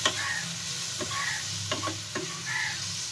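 A spatula stirs spices with turmeric and Kashmiri red chili powder in a hot pan, giving a low steady sizzle broken by several light scraping taps at irregular intervals.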